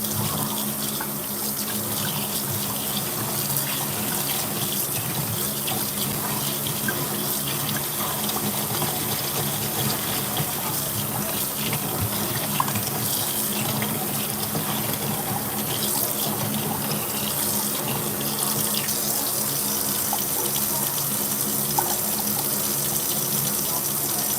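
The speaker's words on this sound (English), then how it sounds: "So cool water. We clean off the rice with cool water." Cool tap water gushes steadily into a sink as rice is rinsed for a homemade chicken soup, a continuous close splashing rush with small clatters and no talk.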